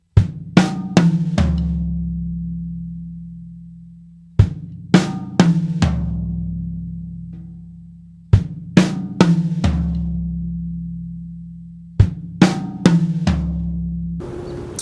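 Drum fills on kick, snare and toms, repeated four times with short gaps; sharp hits ringing down into low tom decay, played alone without talk.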